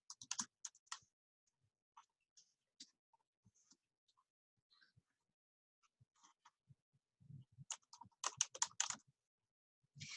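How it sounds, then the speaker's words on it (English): Quiet clicks of a computer keyboard arrive in scattered single taps and short bursts, close by and faint, with denser typing runs near the start and end. "So press Enter and type Nutritional Counseling."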